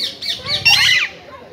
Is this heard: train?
no